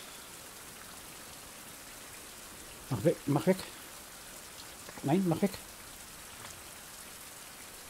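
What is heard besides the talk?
rain falling in the video game Survival: Fountain of Youth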